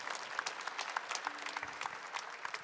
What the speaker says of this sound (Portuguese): Pode aplaudir, pode aplaudir, pode aplaudir, pode aplaudir